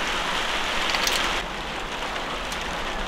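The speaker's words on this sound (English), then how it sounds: "Sorry about the rain noise." Steady, dense rain pouring down, a continuous close hiss that eases slightly partway through, with no voices.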